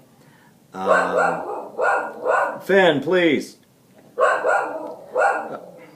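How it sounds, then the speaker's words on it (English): A dog barks repeatedly at close range at thunder, in short bursts with a brief pause between groups, while a person speaks briefly. "He's barking at thunder, I think."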